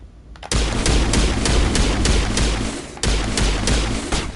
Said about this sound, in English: let's try our pistol out